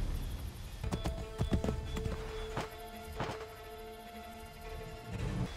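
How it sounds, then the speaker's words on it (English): Horse hooves clip-clop in a brisk, uneven rhythm on a hard surface in the Assassin's Creed III video game, several sharp strikes standing out over a low, steady ambient bed with faint musical tones. "Get back on the horse, Connor."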